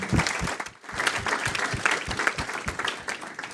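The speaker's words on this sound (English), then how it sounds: "let's just give a round of applause to everyone that talked today." At the close of an AI conference session, the audience breaks into applause for the day's speakers: a fairly close, lively round of clapping with distinct individual claps that dips briefly before continuing.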